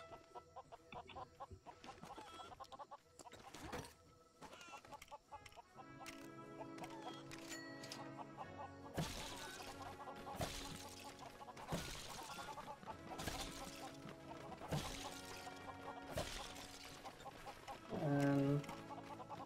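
Chickens cluck in the video game Lego Worlds, repeated short clucks amid busy game sounds and background music, with a louder burst near the end.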